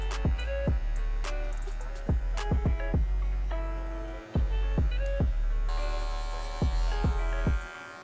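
Electric hair clippers run steadily with a low mains-like hum, interrupted by repeated sharp clicks and taps as a skin fade is blended during a self-cut; no one speaks.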